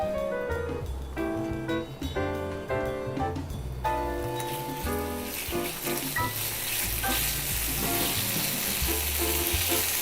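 Liver stir-fried with leek over high heat hisses and sizzles steadily in the pan, partly buried under loud background music with a strong bass line.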